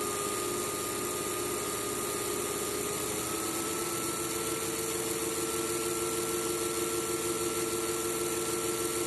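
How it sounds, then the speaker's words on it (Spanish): An electric motor brakes while running with a lost supply phase. It gives a continuous, loud mechanical drone with a steady high-pitched whine over a low rumble throughout. "escuchemos el ruido y escuchemos cómo aparece una de alta frecuencia montada en una de baja frecuencia"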